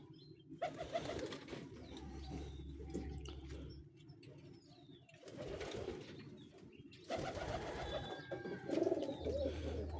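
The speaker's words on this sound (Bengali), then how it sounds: "দেখেন কত সুন্দর বাইরে ঘোরাঘুরি করতেছে কবুতরগুলো" Pigeons coo in soft, repeated low bursts while roaming outside, with quieter gaps between calls and a few faint higher chirps in the background.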